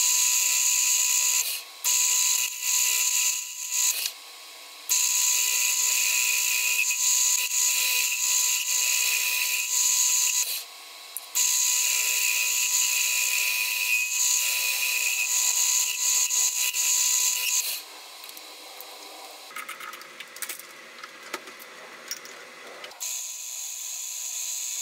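Lathe machining a counterbore for a thrust bearing in a homemade rivnut installing tool body: a steady high-pitched whine of cutting, briefly pausing several times, then quieter rattling and clicks near the end.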